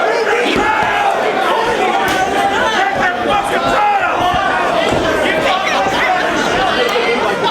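A wrestling crowd roars and cheers continuously at close range, a dense wall of shouting voices with chanting swells and occasional thuds from the ring.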